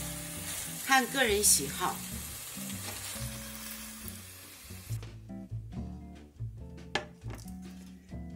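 Fish pieces stir-fried in a wok, a loud close sizzle with scraping clatter for the first seconds, then quieter intermittent clinks and a spoken remark over low kitchen sounds.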